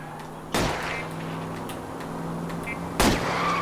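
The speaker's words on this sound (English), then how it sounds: "I'll try to shoot out his tires." Two loud gunshots fired at a fleeing car's tires during an L.A. Noire car chase, a few seconds apart, over a steady engine drone.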